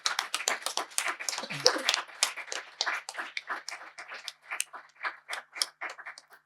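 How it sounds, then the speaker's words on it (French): A church congregation at an Easter seminar applauds, with many hands clapping in a dense, rhythmic burst that gradually thins into scattered claps, while a voice briefly calls out over it. "Je voudrais qu'on acclame Jésus-Christ de Nazareth pour sa bonté."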